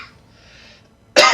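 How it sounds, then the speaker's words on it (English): A single harsh cough bursts out suddenly at the very end, loud and close, after a faint stretch of quiet hiss. "sorry for the coughing"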